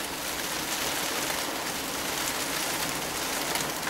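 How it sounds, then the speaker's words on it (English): Heavy rain belts down on a van in the British countryside, a loud, unbroken wash of drumming drops with a steady hiss and no talking. "Absolutely belting down with rain out there"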